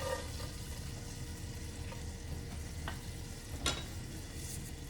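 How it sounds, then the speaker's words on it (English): Garlic cloves sizzle in melted butter in a soup pot, a steady close frying crackle with a few light stirring scrapes and clinks along the way. "We've added our 2 tablespoons of butter, and now we're adding in our 3 cloves of garlic."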